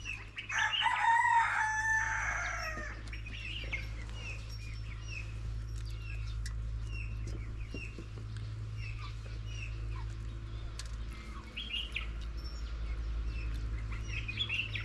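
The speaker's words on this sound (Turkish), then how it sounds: "Bu öten kara tavuğu" A black hen crows loudly and close for a few seconds. Softer clucks and scattered bird calls follow over a steady low rural hum.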